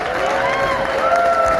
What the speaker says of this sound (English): I'll give him a round of applause.